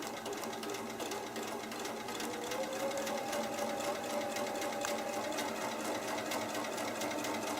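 A sewing machine runs steadily while stitching layered quilt strips, a continuous close whirring hum with fine rapid needle ticking and no pauses.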